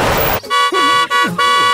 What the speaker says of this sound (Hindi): किसने हॉर्न बजाया बे?